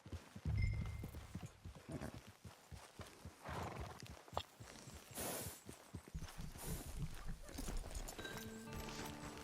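Horse hooves clip-clop steadily in the Red Dead Redemption 2 video game, a walking rhythm close by with an occasional whinny, layered over game music and ambient sound.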